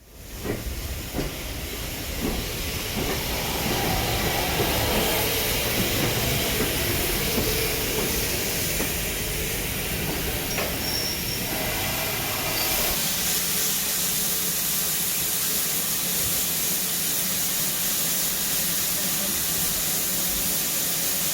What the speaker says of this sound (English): Another Great Western locomotive, this time in the form of Saint Class 2999, Lady of Legend